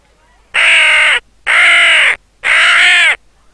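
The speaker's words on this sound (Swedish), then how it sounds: "Det där var en kråka." A black raven in a Moomin video game caws three times, loud, harsh and evenly spaced, each call held for about half a second with short silences between.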